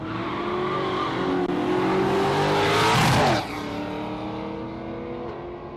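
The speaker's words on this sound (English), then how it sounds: "I wonder what size that motor is in that little Cortina of Brian Heffler's." A Ford Cortina drag car accelerates hard down a drag strip, its engine loud and steady as it climbs through the revs, then it cuts off sharply and fades into a lower drone.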